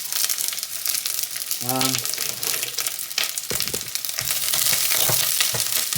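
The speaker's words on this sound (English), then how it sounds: "the onions go in first" Chopped onions sizzle and crackle loudly in hot oil for a spinach curry, a steady broadband hiss with brief stirring clatters, while a short voiced sound rises partway through.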